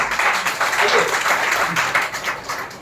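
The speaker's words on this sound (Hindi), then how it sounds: "उनके जोरदार तालियां गीता मैडम के लिए" Applause from the audience at an International Women's Day celebration in a government office hall, a short burst of many hands clapping at moderate loudness throughout.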